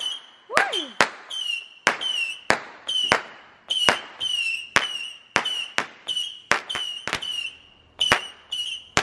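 Fireworks are set off at a New Year celebration: a string of sharp, loud cracks and bangs at irregular intervals, some trailed by shrill whistling tones, with quiet pauses between bursts.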